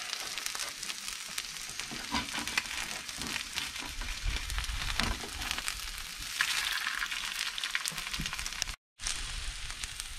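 Eggs fry in a hot pan for a vegan breakfast, a loud, steady hiss and crackle of sizzling oil running close throughout, broken only by a momentary dropout near the end.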